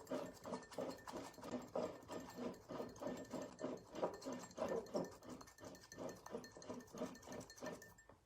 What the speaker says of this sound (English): I can already see that this is a great quality whisk, that I'm getting a really good froth on top